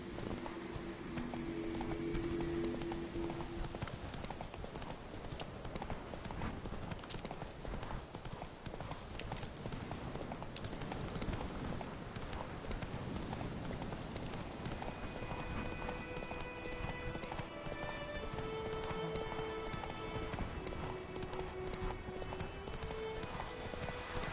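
Horse hooves gallop in rapid, steady clip-clop through the Witcher 3 video game, moderately near, with faint musical tones and an occasional whinny underneath.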